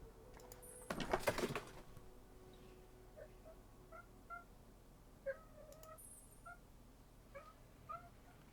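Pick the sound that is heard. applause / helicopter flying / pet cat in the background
pet cat in the background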